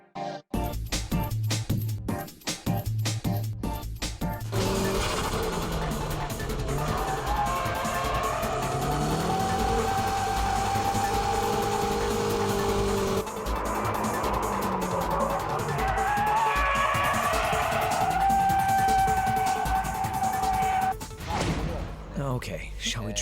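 A car drifting on a racetrack, loud and continuous engine revving with rising and falling pitch and squealing tires, under steady music, with a brief burst of engine sound at the start before the sustained run.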